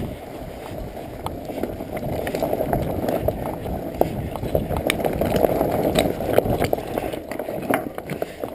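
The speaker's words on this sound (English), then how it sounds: "Fat bikes, great for climbing stuff like that. Almost makes it easy, except for the physical effort part, but just rolls over that" A Surly Pugsley Necromancer fat bike rolls over fallen cliff rocks, a rough continuous crunching rumble with scattered sharp clicks and knocks, heard close and fairly loud.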